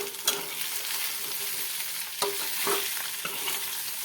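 Bottle gourd and fenugreek muthiya being stirred into a sizzling tempering in a pan, with a steady frying crackle broken by a few sharp scrapes of the spoon, close and without voices.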